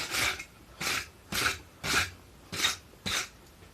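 A wire brush scrubbing a forged steel bar at a blacksmith's forge: six rhythmic, raspy strokes about half a second apart, close and fairly quiet.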